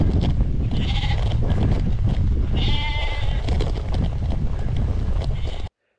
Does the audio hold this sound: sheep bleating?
yes